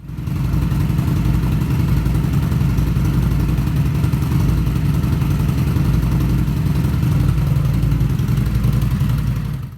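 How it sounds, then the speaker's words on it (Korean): An Indian Scout ABS motorcycle engine idles close by, a steady low chugging rumble holding constant for the whole stretch with no voices. "엔진 사운드도 들어보겠습니다."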